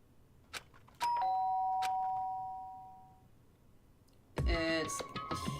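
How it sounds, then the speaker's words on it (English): A doorbell chimes twice in a video game, a bright two-tone ding-dong that rings out and slowly decays, followed later by a louder burst of game sound. "did I hear the doorbell?"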